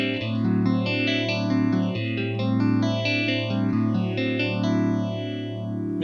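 Guitar run through a phaser pedal with feedback, its sweeping notch rising and falling in a steady slow cycle over a sustained, distorted tone, loud and continuous with no voices.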